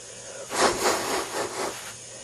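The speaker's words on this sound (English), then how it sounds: "Yes, it's the sound of a train." Rhythmic steam puffs from a train, four or five broad hissing chuffs in a steady beat, fairly close, with no voices.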